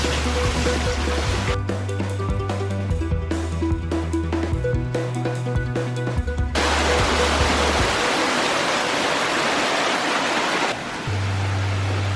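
A 50,000-gallon waterfall pours into a backyard pond, a loud continuous rushing wash of water that fills the scene, with a rhythmic low thumping mixed in partway through.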